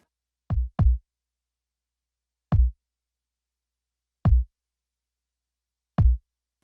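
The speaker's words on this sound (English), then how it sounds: "that's the treatment on the verse kick" Punchy, deep verse kick drum from a mix, with its attack boosted around 5 kHz, played alone: a quick double hit, then three single thumps spaced evenly apart, each tight and dry.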